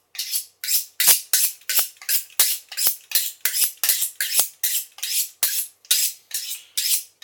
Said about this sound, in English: So here we go, sharpening the knife.